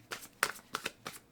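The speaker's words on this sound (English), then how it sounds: "I do shuffle in between for Scorpio." Tarot cards are shuffled by hand in a few quick, soft riffles and slaps, each burst short and evenly spaced, quiet and close, with no talking.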